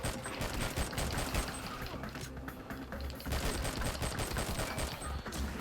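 Pistol gunshots ring out in the R.I.P.D. The Game shooter. Shots crack continuously and rapidly, dense and loud, with no pause over the whole stretch.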